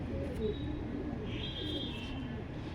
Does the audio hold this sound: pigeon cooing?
yes